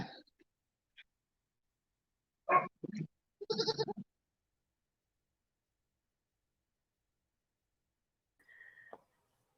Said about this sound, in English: you got some awesome goats